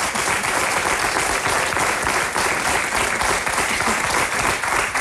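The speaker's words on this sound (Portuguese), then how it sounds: "Merece um forte aplauso a Susana." A television studio audience breaks into dense, sustained applause, loud and even throughout as many people clap at once.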